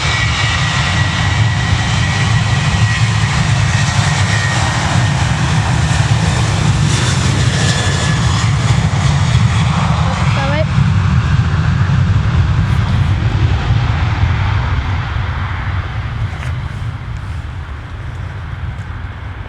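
Jet airliner roaring down the runway on takeoff at Manchester Airport, a loud sustained engine rumble and rushing roar heard from nearby, fading slightly toward the end as it departs.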